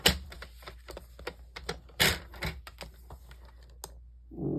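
White card stock is cut into strips with a paper trimmer, giving a quick series of close, sharp clicks and crisp cutting snaps of varying loudness, with a brief rustle at the end.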